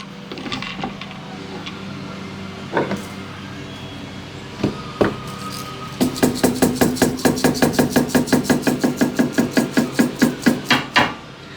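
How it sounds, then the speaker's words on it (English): Plastic-headed mallet lightly tapping a Jeep brake line fitting, a few scattered knocks at first, then a rapid, even series of close, crisp taps over steady background hum. "I'm just going to take a plastic headed mallet and give it some real light taps to try to make it let go without stripping"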